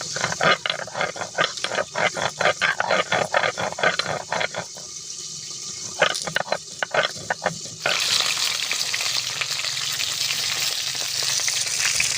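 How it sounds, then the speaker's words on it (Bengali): Rohu fish pieces frying in hot oil, a loud close sizzle broken by rapid rattling, spattering bursts before settling into a steady, even hiss. "মাছগুলো ভাজা হতে থাকুক"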